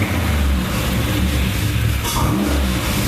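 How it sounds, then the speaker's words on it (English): Car engine being blipped at about quarter throttle in quick revs after a cold start, a loud, steady, close engine roar rising and falling continuously with no talking. "Just real quick revs."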